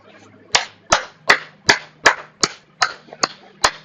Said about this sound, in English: Some attendees started clapping.